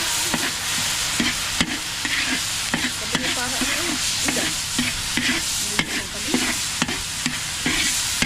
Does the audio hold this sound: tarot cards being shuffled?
no